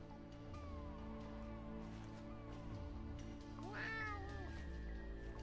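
A cat stuck up a tree in a video game gives one clear meow partway through, set against a steady humming background.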